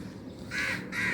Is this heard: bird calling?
yes